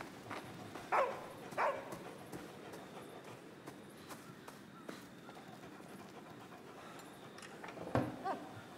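A dog in the video game Somerville gives a few faint, separate barks spread apart over a quiet, muffled background, with no voices.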